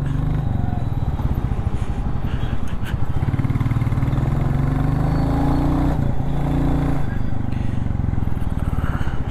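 A Royal Enfield Classic motorcycle engine thumps steadily and loudly up close, idling with a rhythmic chug and occasional revs, with no talking.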